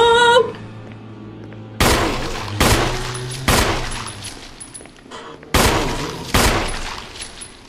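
Five heavy, loud gunshots from Resident Evil Remastered, spaced about a second apart and each ringing out with a long decaying echo, with no talk over them.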